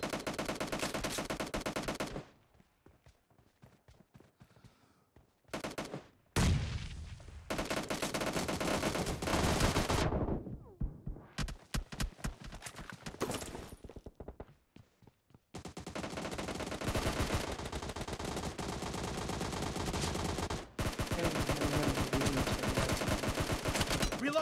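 Gunfire in the PUBG Mobile game during a team deathmatch, with long stretches of loud, dense automatic fire broken by brief near-silent pauses and scattered shots, filling most of the stretch without talk.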